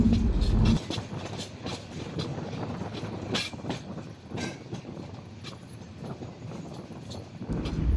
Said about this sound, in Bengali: দেখতে দেখতে আমাদের ট্রেন পিয়ারপুর রেল স্টেশনে ঢুকে পড়তেছে।